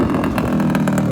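A motorcycle engine runs steadily close by, with a continuous mid-pitched drone and slight rises in revs throughout and no voices over it.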